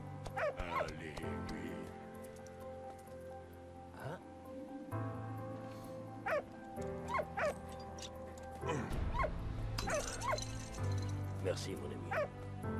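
In the video game Valiant Hearts: The Great War, a dog barks and yips repeatedly in short bursts, mixed with game sounds, while people talk.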